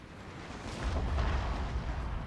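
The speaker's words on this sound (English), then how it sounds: "Our artillery is now ready. And we're going to target their artillery." Artillery fires in Total War: Fall of the Samurai with a deep, muffled boom that swells up and rolls on for a moment, moderately loud with no talking.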